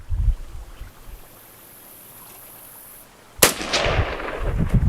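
A single sharp rifle shot from a Yugo SKS M59/66A1, loud and close, cracking out after a quiet stretch with a short echoing tail.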